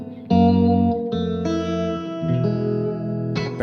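A sustained tonal instrument passage runs through the Pulsar Primavera reverb plugin with its width narrowed to mono, the chords changing every second or so and a smooth reverberant tail carried under them.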